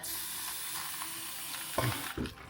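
Water pours steadily into an instant noodle cup with a continuous hiss, ending in a couple of louder clunks or splashes.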